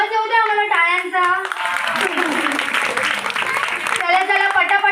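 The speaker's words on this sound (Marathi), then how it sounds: "जरा आवाज येऊ द्या मला टाळ्यांचा." A crowd, including children, claps in a burst of rapid, dense applause after a fugdi folk dance, with a voice speaking just before and right after the clapping.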